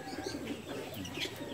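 A homing pigeon, thin and back from a long flight home, gives soft low coos close by over a quiet background.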